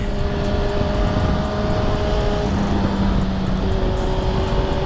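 Suzuki GSX-R1000 sportbike engine held at steady high revs in second gear during clutch-up wheelies, loud and continuous with a pitch that drops briefly and recovers, heavy wind rush over everything.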